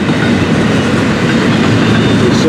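Train rolling slowly along the tracks, led on foot by a crew member, with loud, steady, broadband rumble and wheel noise close by and no pauses.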